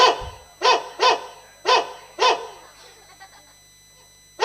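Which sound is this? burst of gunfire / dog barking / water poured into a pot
dog barking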